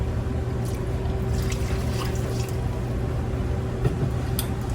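Water poured over a beef pot roast in a cooking pot, a steady trickling and splashing stream with a faint background hum and no talk.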